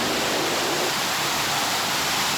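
Floodwater rushing down a stairwell in the Hobart floods, carrying rubbish and mud; a steady, loud, dense roar like a waterfall, continuous with no voices.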